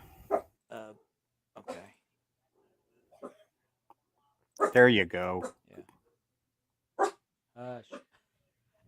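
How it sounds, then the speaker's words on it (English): A dog lets out a few short barks and yips in a burst near the middle, between stretches of nearby conversation. "Dog barking."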